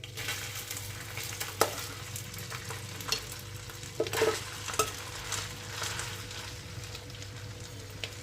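Dehradun rice stirred in a pan of ghee and oil gives a soft steady sizzle, with intermittent scraping and light clinks from the spoon against the pan.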